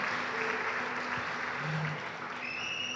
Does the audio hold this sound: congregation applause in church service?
yes